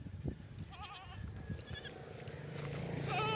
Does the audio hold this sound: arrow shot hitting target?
no